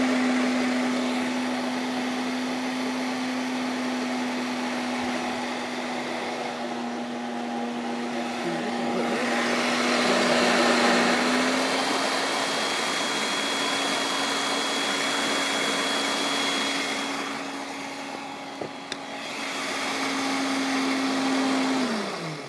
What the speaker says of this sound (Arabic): وانا هحاول اضرب تاني عشان بس صوت الخلاط